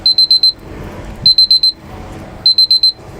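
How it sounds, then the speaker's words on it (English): A phone alarm beeps outdoors at the Royal Courts of Justice in London, sounding three loud, evenly spaced bursts of four quick, bright electronic tones over low street ambience. "Oh, some sort of silly alarm going off my phone."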